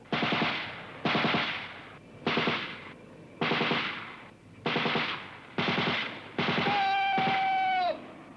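Machine gun fire from a 1965 army training film, heard as six loud bursts of rapid shots, each lasting about half a second to a second and separated by brief pauses, with a final longer burst.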